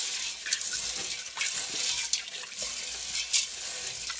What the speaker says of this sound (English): Fill it with water, swirl it around, and make sure you rinse them very well.